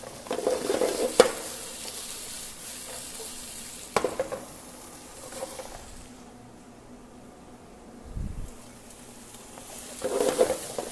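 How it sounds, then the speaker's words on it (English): Fajita vegetables sauté in a hot pan, giving off a soft, steady sizzle with occasional clanks and scrapes of stirring and a brief low thump partway through. "we're just gonna saute these vegetables, lightly caramelizing them"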